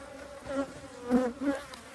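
Honey bees hum around a hive in Texas, a close, wavering buzz that swells and fades in a few passes as individual bees fly near.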